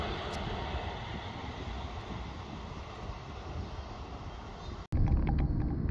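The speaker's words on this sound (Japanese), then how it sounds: "間近に見える飛行機、その姿は美しく迫力もあり、エンジン音が体に響いて" A steady, loud roar of passenger jet engines near Narita airport in Chiba, Japan drones on, then cuts off abruptly and shifts to a heavier rumble near the end.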